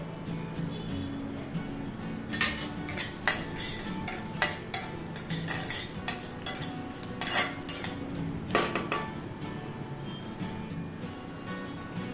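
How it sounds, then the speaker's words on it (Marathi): Coriander seeds dry-roast in a pan, with frequent light scraping and clinking as a spoon stirs them across the metal, close and quiet, steady for several seconds with no talk. "आता आपल्याला यामध्ये धने भाजून घ्यायचे आहेत धने पण गोल्डन कलर येईपर्यंत चांगले भाजून घ्यायचे आहेत"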